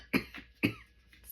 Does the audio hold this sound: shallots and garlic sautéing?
no